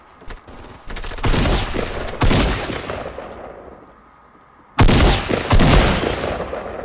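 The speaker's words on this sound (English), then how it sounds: "Ooh, he got a shotgun. He got a shotgun." Shotgun fire in the video game Fortnite: several loud, sharp blasts in two bursts, each with a booming decay, separated by a brief quiet gap, with no talk over them.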